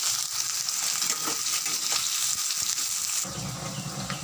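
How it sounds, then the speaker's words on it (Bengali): Potato pieces crackle and sizzle in hot oil in a pan, a loud, continuous frying hiss that shifts and deepens slightly partway through. "এই তেলটা গরম হয়ে গেছে এবার আমি আলুগুলো দিয়ে দেবো আলুগুলো দিয়ে দিলাম দিয়ে এটাকে ভালো করে লাল করে আমি ভেজে নেবো"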